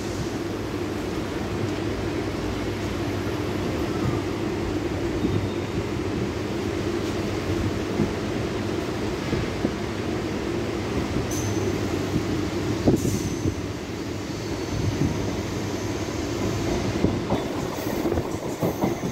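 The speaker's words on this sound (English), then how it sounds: "After 10 seconds, train has departed." A Hyderabad MMTS local commuter train departs and rumbles steadily along the tracks with a rhythmic clickety-clack of wheels, continuous and fairly loud, with occasional brief squeals.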